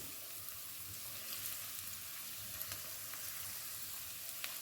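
Food fries in a non-stick pan for a plantain and egg frittata with a soft, continuous hiss. Faint scattered crackles and pops run through it, and the sound stays fairly quiet throughout.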